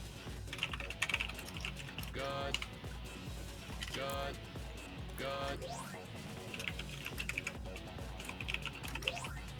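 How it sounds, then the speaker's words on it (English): Rapid, uneven keyboard typing runs close and steady throughout, with a few heavier clacks and brief mechanical clicks mixed in, heard during a gaming session while people chat in the background. "is my typing at all like being annoying on microphone?"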